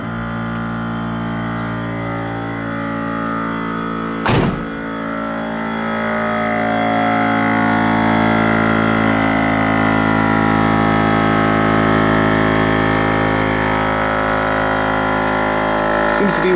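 A Viair 400c onboard air compressor mounted in a Suzuki Samurai drones steadily as it fills its air tank, a continuous loud mechanical hum with one brief clunk early on, nobody talking.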